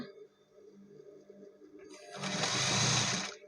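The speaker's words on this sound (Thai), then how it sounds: "เย็บโดยไม่ทับยางยืดนะ" A sewing machine stitches elastic along a fabric edge during a garment repair. Quiet handling gives way to a loud, close burst of rapid stitching that lasts about a second and a half, then stops abruptly.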